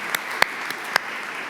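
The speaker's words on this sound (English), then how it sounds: "I'm gonna give them a round of applause." Applause from the audience at a Techstars accelerator demo day, a broad wash of clapping with a few sharper claps standing out, held steady for a brief moment.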